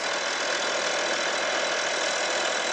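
An Audi 2.5 TDI Allroad diesel engine idling after its repaired turbo was reinstalled, producing a steady, even rushing drone up close that holds constant before cutting off abruptly.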